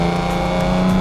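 An old Ford Capri engine revs on a race track, a loud, steady, close-up droning roar held throughout the brief moment.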